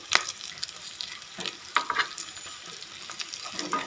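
A cutlet sizzles steadily in a frying pan and is flipped over, with sharp clatters of the spatula and the pan cutting through the close, continuous frying noise. No talking.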